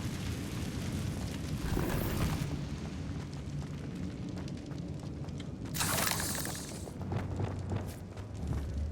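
Incendio fire spell in Hogwarts Legacy bursts against an obstacle with crackling booms and whooshing blasts, one around two seconds in and a louder burst near six seconds, over game ambience.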